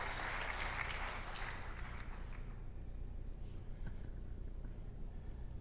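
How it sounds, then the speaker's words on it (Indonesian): Audience in a church service applauding the worship leader, singers and musicians, sustained crowd clapping that fades after about two seconds into a quiet room hum. "Boleh tepuk tangannya di-extend buat worship leader,"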